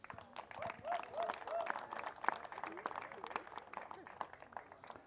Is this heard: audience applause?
yes